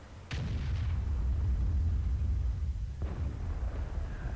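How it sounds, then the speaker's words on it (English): Artillery fire in World of Tanks during a Centurion 7/1 match: a sudden heavy boom opens a long rumbling roar, and a second, softer distant blast follows a few seconds later, with no talk. "And artillery is going for the IS-7 now."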